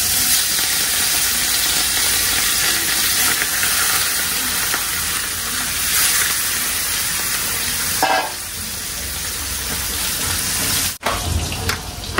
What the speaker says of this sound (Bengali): রসুন, পেঁয়াজ, শুকনা মরিচ, কাঁচা মরিচ দিয়ে না একটু শাকের জন্য ভাজতেছি